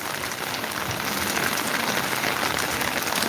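Steady rain falls outdoors, a dense, even hiss of drops hitting surfaces with no pauses and no voices.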